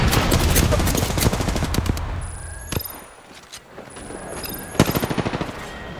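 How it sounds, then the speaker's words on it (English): Automatic and rapid gunfire from enemies in the battle royale game Apex Legends bursts close and loud. A dense volley opens the passage, single cracks follow after a lull, and a final staccato burst ends it. No voice speaks over the shooting. "The enemies are shooting at me."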